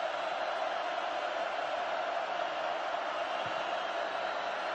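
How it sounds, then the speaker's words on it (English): A football stadium crowd at Oregon roars steadily on a third down against Purdue, a dense, continuous wall of distant cheering and noise with no pauses. "And the crowd, of course, gets into it."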